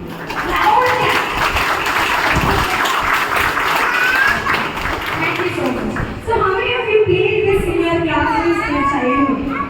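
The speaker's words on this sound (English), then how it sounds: "Can we ask you all to clap loud?" An audience at a parent orientation claps loudly, a dense sustained burst of many hands mixed with crowd voices and children's chatter, close and continuous, with talk and noise carrying on afterward.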